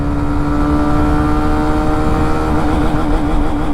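Hero Xtreme 125 motorcycle pulling hard in fourth gear at speed, its engine a loud, steady, continuous drone with a rising tone and no pauses.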